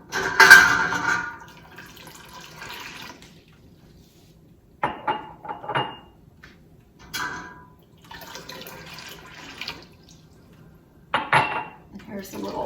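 Glass canning jars clink and knock against a hard surface in short bursts, with quieter gaps and soft kitchen handling noises between, while peach preserves are being jarred.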